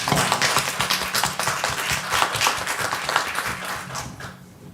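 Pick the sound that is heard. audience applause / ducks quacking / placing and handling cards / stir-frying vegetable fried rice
audience applause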